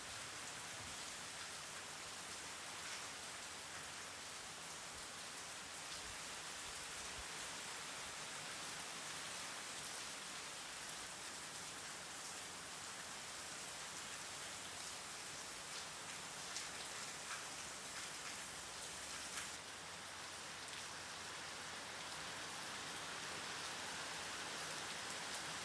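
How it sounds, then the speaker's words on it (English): Heavy rain pouring over Okap, Haiti, a dense, continuous hiss of drops hitting surfaces that holds steady for the whole stretch, with no voices. "It has been raining a lot for the past few days in Okap"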